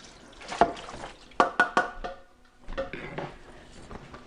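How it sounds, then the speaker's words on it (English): Water running briefly at a kitchen tap while a Thermomix TM6 lid is rinsed, with a few sharp clinks of the plastic lid against the sink and soft splashing, close and fairly quiet. "just give the lid a quick rinse"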